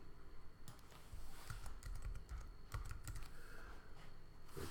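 Someone types on a computer keyboard in quick, uneven bursts of close, faint clicks, with short pauses between the runs of keystrokes.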